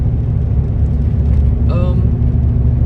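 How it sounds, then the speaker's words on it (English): A diesel Volkswagen Jetta drones loudly from inside the cabin while driving, a steady low engine and road rumble with a brief squeaky tonal sound partway through. "I'm driving a Jetta, and it's a diesel, which I love because it gets great gas mileage, but it's a loud car."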